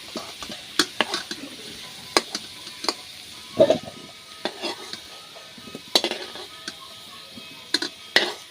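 A soft frying sizzle sits under frequent sharp clicks and scrapes of a spatula turning food in a pan, irregular and close.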